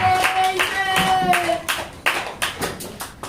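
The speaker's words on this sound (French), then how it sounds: "Acclamons très fort le Seigneur Jésus-Christ." A church congregation claps loudly in acclaim, a dense burst of many hands at first, then settling into sharper, spaced claps that gradually thin out toward the end.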